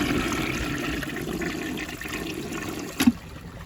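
Rheem Claymore toilet flushing, a steady close rush and gurgle of water throughout with a brief sharp clunk near the end.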